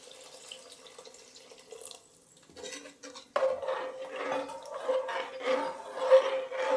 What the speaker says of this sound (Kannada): ಈಗ ನಾನು ತೆಂಗಿನಕಾಯಿ ಹಾಲನ್ನು ಹಾಕ್ಕೊಳ್ತಾ ಇದ್ದೀನಿ ನೋಡಿ